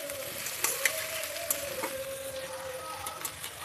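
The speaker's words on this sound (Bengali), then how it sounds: "পেঁয়াজটা হালকা ভাজা হয়ে গেছে।" Onions frying gently in a pan for chowmein, a soft, steady sizzle with faint crackles and a low hum in the background, quiet and continuous with no talking.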